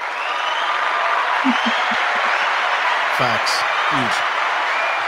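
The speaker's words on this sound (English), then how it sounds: "One more round of applause for Ms. Reuther on that." An audience applauds throughout, a dense steady wash of clapping with brief spoken words and a voice rising over it.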